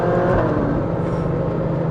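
Ferrari 458 engine revving hard toward its 9,000 RPM red line, a loud, close, sustained high-pitched engine wail with no pause.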